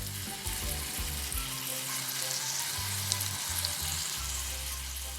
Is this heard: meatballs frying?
yes